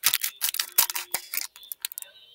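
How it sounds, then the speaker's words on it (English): Several sharp snips and crinkly cutting sounds close by, irregular bursts as a package is cut open, with brief rustling between. "Got my trusty scissors. So we're gonna go ahead and snip it open."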